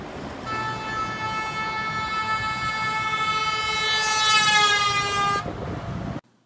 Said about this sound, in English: if I get in this car and honk the horn while I drive by the camera